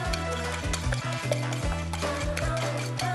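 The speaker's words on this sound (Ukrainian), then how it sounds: "просто взбиваємо як звичайний кляр до однорідності" Batter being whisked briskly in a bowl for fried pickled-cucumber appetizers, a steady rhythmic scraping with repeated strokes over a low hum, close and fairly loud.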